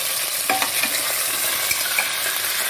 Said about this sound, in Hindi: अब हम थोड़ा मटन को फ्राई होने देंगे जब तक कि वो एक थोड़ा गोल्डन कलर नहीं पा लेता